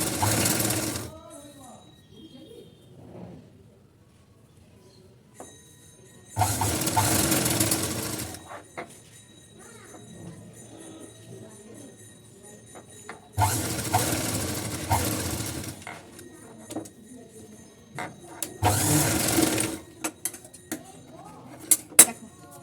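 A sewing machine stitches a blouse collar in four loud bursts of rapid, rattling needle strokes, each lasting a second or two, separated by quieter stretches where someone talks and fabric is handled.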